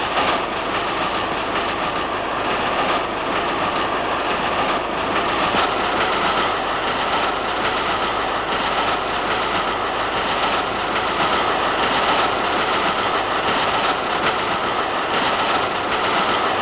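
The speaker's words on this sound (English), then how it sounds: "multiple-unit electric trains are clean, comfortable and speedy. They cruise along at 45" An electric multiple-unit train runs steadily along the rails, a continuous loud rumble with faint rhythmic clatter from the wheels, heard close and unbroken with no talk.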